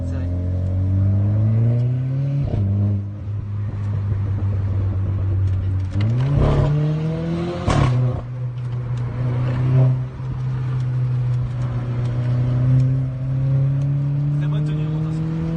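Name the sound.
Renault Clio 4 RS engine with aftermarket exhaust line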